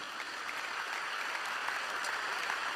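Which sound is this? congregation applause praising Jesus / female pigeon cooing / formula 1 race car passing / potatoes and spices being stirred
congregation applause praising Jesus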